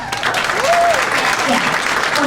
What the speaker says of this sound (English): Can we give another round of applause to the kids that are singing tonight?